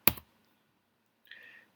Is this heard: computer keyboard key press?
yes